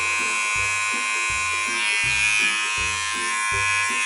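Electric hair clipper trimming a young boy's hair at home, a steady close-up buzz with a rhythmic low thumping pattern repeating about every second as the blade passes, and no talking.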